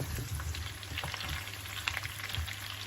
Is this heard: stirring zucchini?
yes